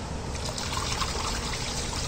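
Engine coolant draining from a loosened hose into a drain below, a steady close trickle and splash of liquid at a low level with no talk.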